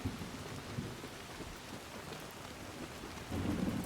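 Steady rain pours down inside a leaky shelter in the Soulmask video game, a continuous hiss with low rumbles of distant thunder, louder near the end, and no voices.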